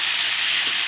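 Tomatoes fry in a pan with ginger garlic paste for a potato and pea gravy, giving a brief, steady, close sizzle with no talk.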